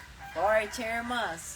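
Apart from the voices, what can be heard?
rooster crowing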